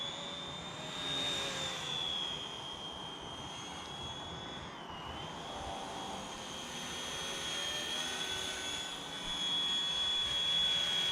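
An inexpensive, realistic-scale RC helicopter flies nearby with a steady high-pitched turbine-like whine and rotor hum that shifts slightly in pitch as it manoeuvres, with no talk.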